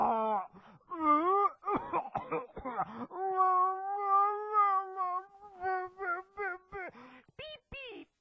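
A man imitates a cat with his voice, giving a run of drawn-out, wailing meows one after another, loud and close with short gaps between them.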